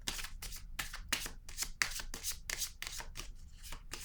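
A tarot card reading at a table, with cards being shuffled and handled in a quick series of soft, close rustling swishes and light slaps, evenly rhythmic and unaccompanied by any voice.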